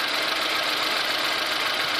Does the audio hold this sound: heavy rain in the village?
no